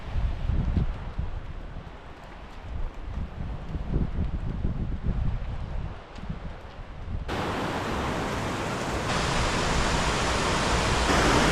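A waterfall flows down from the Highlands, a loud, steady broadband roar of rushing water mixed with wind buffeting the microphone, with no voices.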